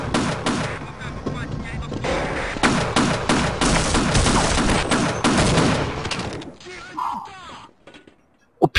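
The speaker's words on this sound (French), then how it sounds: "Mitrailleuse lourde. Qui ne sert à rien vu qu'il y a une plus grosse mitrailleuse lourde à côté." A heavy machine gun in Half-Life fires in long rapid bursts, loud, close and sustained for several seconds, then cuts off, followed by a few faint sounds and a couple of sharp final hits.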